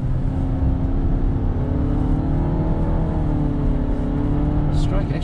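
Nissan X-Trail ST family wagon from 2019 accelerating hard in second gear on a racetrack, its engine droning steadily and rising in pitch, heard from inside the cabin.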